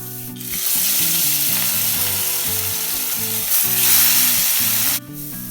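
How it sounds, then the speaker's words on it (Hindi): Eggplant kebabs coated in ground spices fry in hot mustard oil, giving a loud, steady sizzle that swells near the end and then cuts off abruptly, with a low humming tone running underneath. "तेल गरम है, चलिए तलते हैं।"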